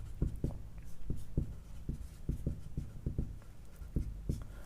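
Pen or chalk writing out numbers for a ratio problem, a string of short, distinct taps and strokes in an irregular rhythm, close and fairly quiet, with no talking.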